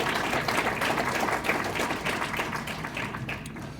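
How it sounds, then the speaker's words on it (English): A crowd applauds at a women's appreciation breakfast, the dense, steady clapping carrying evenly throughout with no voices heard. "So you should give yourselves a round of applause right now for the women that are"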